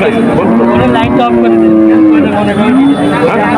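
Cattle at a rural livestock market low in long, drawn-out moos that rise and fall, heard amid constant crowd noise and background chatter.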